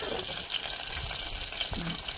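Onion sizzles in hot oil in a short, dense, steady hiss of frying, heard close, with a brief murmur of a voice near the end.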